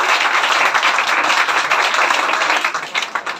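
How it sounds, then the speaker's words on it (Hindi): Loud, dense clapping from an audience honouring a student at a school toppers' award ceremony, a steady burst of applause that starts to thin out near the end. "सानिया के लिए जोरदार ताली"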